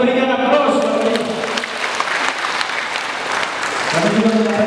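An audience at a family seminar claps in steady, sustained applause that fills the room, while a voice speaks over it at the start and again near the end.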